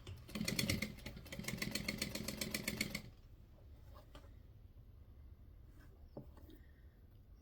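A sewing machine chain piecing quilt pieces at a 2.5 stitch length, a close, fast, steady mechanical whirr of rapid stitching for about three seconds, followed by quieter handling noises.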